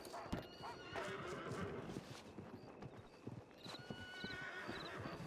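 Horse hooves clip-clop steadily through a video game scene while a horse neighs and whinnies several times, busy game ambience underneath.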